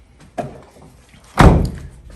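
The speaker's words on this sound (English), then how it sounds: "close the door" A door slams shut in a workshop, one heavy close thud preceded by a lighter knock, loud and distinct with no speech.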